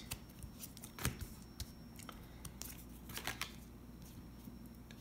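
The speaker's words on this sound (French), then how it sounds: "On rajoute les cartes." Playing cards from a Pocket Pharma card game being laid onto a pile, faint soft taps and slides scattered over a few seconds, quiet and close.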